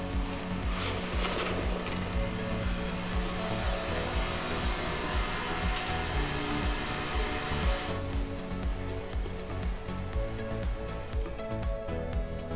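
A VF100E vibratory filler machine running a fill, giving a steady, loud mechanical hum and rattling buzz that continues throughout and eases slightly near the end.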